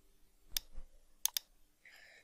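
A few sharp computer mouse clicks are heard while a file is opened in Photoshop, with one single click and then a quick double click, close and quiet with no talking.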